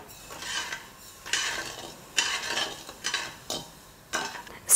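A spoon scrapes around a pan of sugar and water dissolving on the stove for Mysore pak, in regular sweeping strokes, about six rhythmic stirs, close and fairly quiet with no talking.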